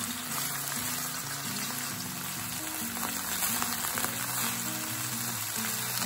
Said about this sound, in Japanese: そしてレンコンを入れていきます。 はい、このまま中火で炒めていきます。